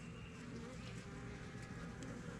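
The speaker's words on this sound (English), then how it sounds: "a bee" Honeybees buzz steadily and close by at a weak queen-rearing hive in a chestnut grove, a dense continuous drone without pause.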